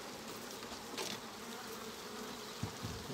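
A steady, low drone of honeybees around a hive during the linden honey harvest, even and continuous with a brief rise near the middle, no voices present.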